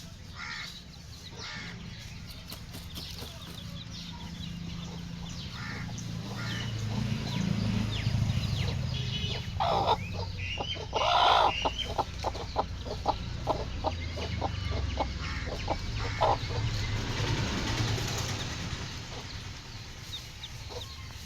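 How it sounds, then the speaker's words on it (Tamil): Hens with their chicks cluck and call in a steady scatter of short, fairly close sounds over a low background hum, with occasional crow-like caws mixed in. "இவங்க வந்து அடக்கோழிங்க, முட்டை இட்டு முடிச்சுட்டு"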